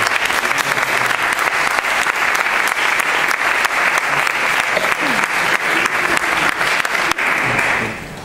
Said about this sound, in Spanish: Pues un aplauso muy fuerte para...